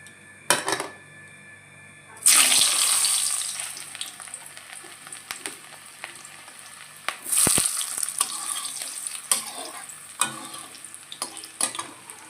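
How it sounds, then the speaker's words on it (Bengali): Carrots frying in hot oil in a pan, a bright sizzle that bursts up as they go in, then settles into a crackling fry with intermittent scrapes and clinks of a spatula against the pan. "এবারে ওই তেলে গাজরটাকে ভেজে নেব"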